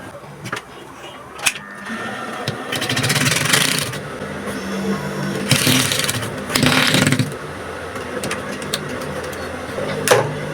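A sewing machine stitching a corset, several whirring runs of mechanical stitching with pauses and clicks between them, heard close over quiet background sound.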